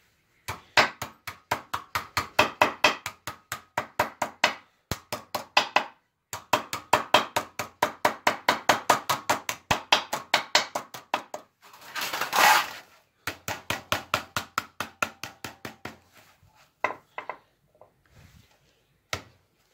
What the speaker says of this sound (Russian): Началось с молотка, ну да ладно.